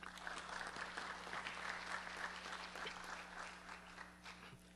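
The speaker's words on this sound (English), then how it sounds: "Let's give a round of applause, please," An audience at an evening public program on light rail in Pinellas County applauds a media sponsor, a steady wash of clapping that carries at moderate level throughout, with a low constant hum underneath.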